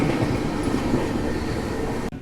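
The New Delhi–Howrah Rajdhani Express runs at about 130 km/h with a loud, steady roar of wheels on rails and a continuous rumble, heard from on board until an abrupt drop near the end.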